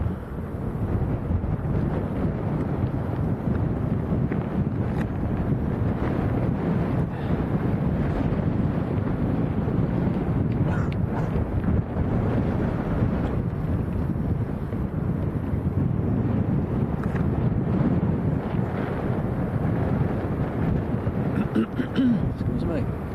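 Strong crosswind buffets the microphone at Lanzarote Airport, a steady loud roar of gusting air that fills the whole stretch with no break.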